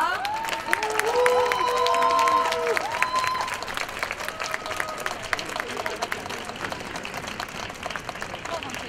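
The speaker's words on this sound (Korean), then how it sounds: "박수로 맞아주세요" Outdoor concert audience at a university event applauds to welcome a voice student and a piano student, steady clapping with some cheering and overlapping speech early on, thinning slightly toward the end.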